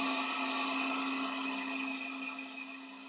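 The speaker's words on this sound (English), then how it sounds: "Vacuum cleaner." A steady motor whine with a strong constant hum, like a vacuum cleaner running nearby, droning evenly and fading slightly toward the end.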